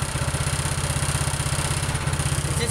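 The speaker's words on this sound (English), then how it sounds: "This thing purrs, man. It's got one of the nicest small engines I've ever seen." A Troy-Bilt Storm Tracker 2690 XP snow thrower's small engine runs steadily near full throttle, a close, even, rapid chugging pulse without pause and no talking.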